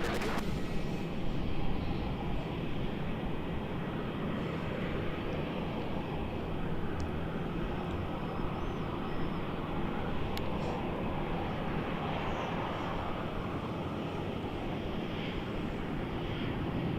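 Jet airliner taking off at Melbourne Airport, a loud steady broadband engine roar that holds continuously throughout with some wind buffeting, no clear rise or fade.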